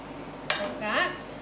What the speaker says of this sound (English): you can just use a little spoon to just scrape the seeds out